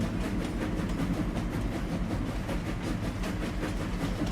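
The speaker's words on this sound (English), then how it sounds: "Listen to that engine chug." A video game steam locomotive in Farming Simulator 25 chugs steadily with dense rumbling noise and a faint, regular pulsing beat, continuous throughout with no speech.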